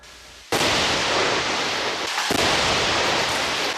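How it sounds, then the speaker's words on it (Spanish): Soldiers blow up an illegal mine entrance in the remote hamlet of El Cielito: a sudden loud blast erupts into a sustained, roaring wall of noise as debris and rubble rush outward, with no voices. "Esta fue una de las 6 explosiones con las que militares destruyeron bocaminas ilegales"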